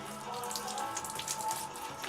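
Water runs from a tap while a cat is bathed, a soft steady splashing stream with light drips, fairly faint.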